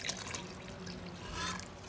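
Water splashes and trickles steadily into a cooking pot of lentils for sambar, a close, continuous liquid pour with a slight swell near the end.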